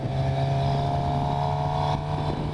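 A 2015 Suzuki GSX-R750 motorcycle engine holds a steady hum at constant revs, heard close and loud for a few seconds.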